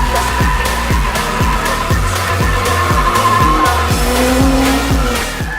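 A turbocharged Nissan R33 sedan of about 300 wheel horsepower on semi-slick tires, drifting with loud sustained tire squeal and a rhythmically revving engine, close and continuous.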